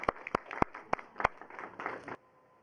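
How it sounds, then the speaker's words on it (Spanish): A few scattered hand claps welcoming a speaker at a talk on sexual diversity rights, sharp and distinct at first, then a thin patter that stops abruptly, fairly faint in a quiet room. "lo recibimos con un aplauso,"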